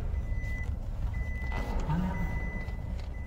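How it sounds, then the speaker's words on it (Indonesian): A vehicle's alarm beeps in a steady repeated tone because four-wheel drive stays engaged, heard over a constant engine and road rumble inside the car. "Itu mobil suara alarm itu alarm double saudara, karena kita harus nyalakan double gardannya terus menerus."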